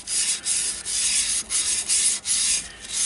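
Yorkshire Grit abrasive paste rubbed by hand into a turned wooden piece, a close, steady scratchy rasping in repeated strokes with brief pauses, no voices.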